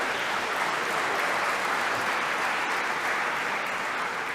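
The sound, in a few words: audience applause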